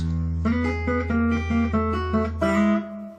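A short melodic guitar lick in a twangy country style, a quick run of plucked notes over a sustained low note, ending on a held tone.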